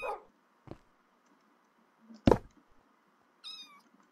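Cats in a video game give a few short, scattered meows, one louder cry in the middle and a higher mewing toward the end, separated by quiet gaps.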